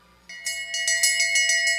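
A bell rings for the final lap at a short track speed skating race, struck in a quick steady series of bright metallic clangs, loud and close, with no talk over it.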